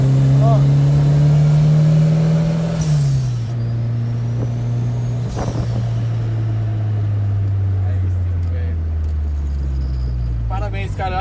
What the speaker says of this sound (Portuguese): Que você aperta mesmo que a turbina chia